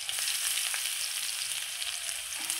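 Chopped garlic fries in hot oil after green chillies, giving a steady, bright, close sizzle that crackles evenly with no voices.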